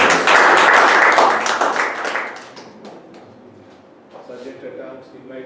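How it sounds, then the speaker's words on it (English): Applause from members at a Toastmasters club meeting, a dense burst of clapping for about two seconds that thins out and fades, followed by quieter room sounds and brief talk. "a round of applause and appreciation to all the members"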